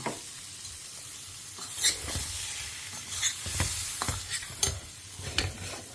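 Spice powders sizzle in hot oil in a pan while being stirred, a steady close frying hiss broken by repeated scrapes and taps of the spoon against the pan.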